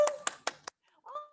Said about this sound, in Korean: 박수로 시작하겠습니다. 박수!